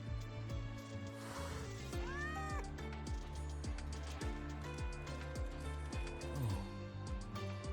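Frightened cat meowing in the video game Wuthering Waves, a couple of rising and falling cries over a rhythmic background of repeating tones.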